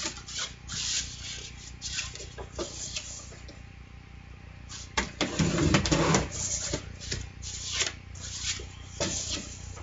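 Soft Suede cardstock scored with a paper trimmer at a craft desk, a close, soft repeated rubbing and rasping of the blade track along the paper, with a denser stroke midway and no talk.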